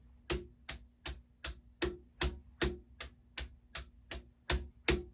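A drum plays about thirteen sharp, evenly spaced strokes of a six-stroke roll phrased as triplets, in a steady pulse, close and clear, with nothing else playing.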